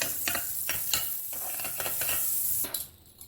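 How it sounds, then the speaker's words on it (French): Butter sizzling on the hot plates of a heating waffle iron, a steady close frying hiss with a few soft clinks and scrapes, cutting off abruptly near the end. "Je mets mon gaufrier à chauffer. Je mets un peu de beurre sur les plaques."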